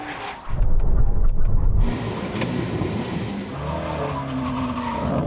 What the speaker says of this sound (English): Full braking on all 2 feet.